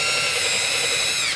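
A power drill bores holes in a door while a door lock is installed, a continuous, loud, high mechanical whir with no pauses and no talking.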